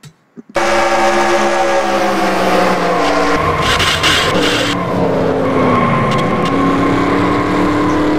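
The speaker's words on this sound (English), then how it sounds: "Hard hit for Cameron Godu." Race car crash during an NRLOA Microsoft Cup Series auto race in California: a sudden loud burst of engine roar and tire skidding that stays intense and sustained, close and dominant throughout.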